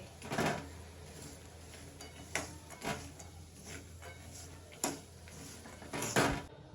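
A spoon clinks and scrapes in a bowl while masala peanuts for dabeli are mixed with garam masala, coriander-cumin powder and powdered sugar, giving a few sharp metallic knocks spread across quiet, close-up stirring.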